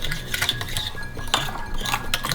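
A spoon clinks against a bowl while paprika, brown sugar and salt are mixed into a dry rub for chicken stir fry. The scraping and tapping are repeated and close by, with no talking.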